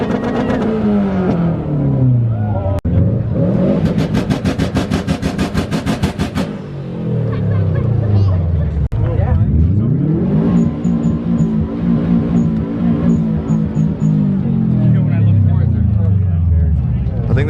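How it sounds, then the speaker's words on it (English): A Subaru WRX STI at a crowded car show revs hard several times, each climb in pitch dropping away with a sharp blow-off valve whoosh, loud and near, with people talking around it. "I think the blow-off valve was louder than the car."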